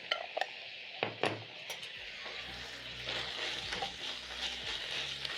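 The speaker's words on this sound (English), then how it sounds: "Stir in the salt into the minced meat." Salt stirred into minced meat cooking in a pan for a meat pie filling: close metallic utensil clinks and scrapes against the pan at first, then a steady soft sizzle, fairly quiet.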